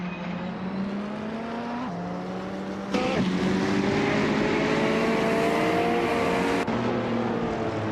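A 2018 Toyota FT1 GTE race car in a racing video game, its engine droning loud and steady with rising pitch sweeps through the gears, one sharp jump in volume midway, continuous engine noise and no voices.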